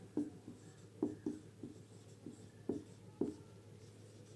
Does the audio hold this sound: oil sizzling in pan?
no